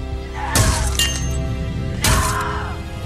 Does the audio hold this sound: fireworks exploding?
no